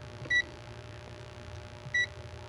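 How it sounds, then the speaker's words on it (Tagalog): Two short, high electronic beeps from a multimeter continuity buzzer about a second and a half apart over a quiet background hum, during a refrigerator repair. "Sa ohms pala tayo. Nasa buzzer pa tayo eh."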